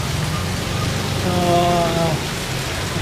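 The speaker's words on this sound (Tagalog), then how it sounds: "Kasi inabot tayo ng ulan. Lakas ng ulan." Heavy rain falling outdoors in the Philippines, a steady loud broadband wash across the whole clip with a brief tonal hum partway through.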